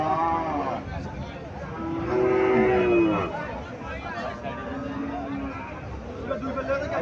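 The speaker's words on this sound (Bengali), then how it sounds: "এখানে আরেকটা সুন্দর একটা দামারি বাছুর দেখা যাচ্ছে" A cattle calf moos several times at a busy cattle market in Cumilla, one drawn-out low call standing out clearly over background chatter and people talking nearby.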